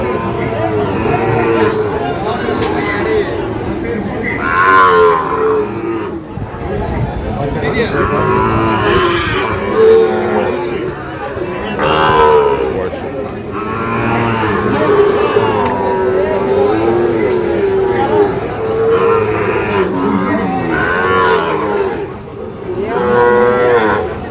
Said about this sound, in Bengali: আমরা আমবাড়ি বাছুর গরুগুলো প্রায় বিক্রয় করা হচ্ছে